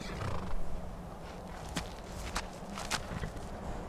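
A horse in Skyrim whinnies amid a busy background, with clip-clop hoof steps sounding intermittently, moderately close.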